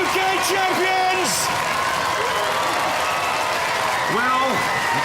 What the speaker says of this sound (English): Cue the applause